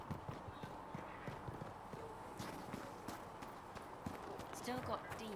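Horse hooves clip-clop at a steady walking rhythm in Dragon Age Inquisition, soft and moderately close, running under a voice throughout.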